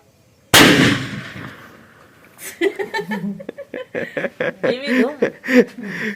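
A calcium carbide cannon fires one loud, sharp blast that rings out and decays over a couple of seconds, followed by people talking and laughing nearby.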